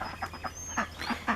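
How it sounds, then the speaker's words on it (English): Several ducks on a small farm, juveniles still in their first feathers, give a few short quacks in a loose irregular series, fairly close but not loud. "There goes some ducks."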